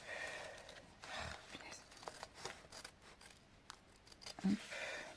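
Scissors snip through freshly sewn fabric, a few soft crisp cuts spaced out over several seconds, faint and close, with light breathing between them.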